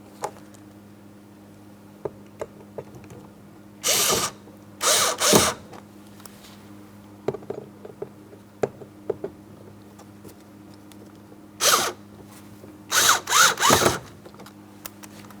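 A power drill drives Phillips head screws into the front door of a 2003-2007 Cadillac CTS during a window regulator replacement. Two clusters of short, close whirring bursts come with faint ticks and clicks between them, and no one speaks.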